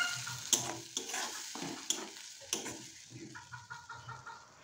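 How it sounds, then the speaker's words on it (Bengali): Stirring and scraping in a frying pan as pointed gourd puree cooks with crushed ginger and green chili, with repeated spoon clatter over a steady soft sizzle and no talk. "থেতো করা আদা আর কাঁচা লঙ্কার মিক্সারটা দিয়ে একটু ভালো করে নেড়ে চেড়ে নিচ্ছি।"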